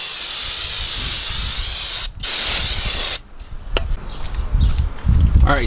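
Steady hiss of aerosol brake cleaner sprayed onto BMW 5 Series F10 brake rotors, two long bursts with brief pauses, then lighter clattering handling noises close by.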